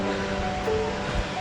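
A large waterfall roars in a steady, unbroken broadband rush of falling water, close and loud, with no talking.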